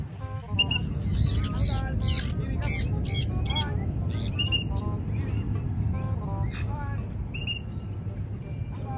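African grey parrots flying outdoors on their first free flight squawk in repeated harsh, piercing bursts, loud and near, over a low rumbling background.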